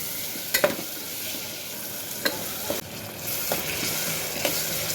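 Cauliflower and peas stirred in a sizzling pan, a steady frying hiss punctuated by several sharp spoon scrapes and clinks against the pan.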